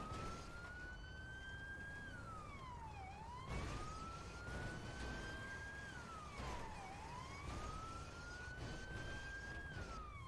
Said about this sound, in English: Do you not see the lights and sirens on my vehicle?